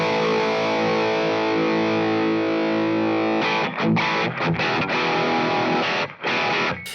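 Heavily distorted high-gain electric guitar through a Boss WAZA Tube Amp Expander playing alone, a sustained chord ringing out and then choppy, muted riffing with brief gaps, the harsh top end rolled off by a high cut around 5 kHz.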